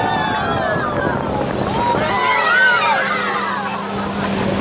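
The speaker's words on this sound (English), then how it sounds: "so that was the splash" An amphibious duck tour boat in Singapore plunges into the water, a broad rushing wash of water and wind noise with engine rumble. Voices chatter and call out over the turbulence.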